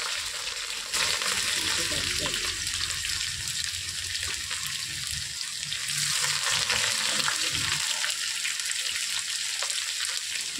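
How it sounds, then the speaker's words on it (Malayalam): Chopped garlic and ginger frying in hot oil with curry leaves for a Kerala-style beef curry, a loud steady sizzle with occasional stirring scrapes throughout. "ഇഞ്ചിയും വെളുത്തുള്ളിയും ആദ്യം തന്നെ ചെറുതായിട്ടൊന്ന് വഴറ്റിയെടുത്തതിന് ശേഷം"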